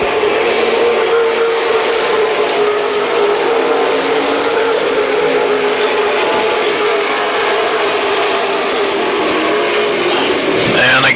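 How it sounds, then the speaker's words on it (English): A WISSOTA Super Stock race car at Viking Speedway roars steadily past on the oval track during a late-race lap, a loud, sustained engine drone with a rising rasp near the end and a commentator talking over it. "He has really got that thing cranking as they come by this time with 7 laps to go."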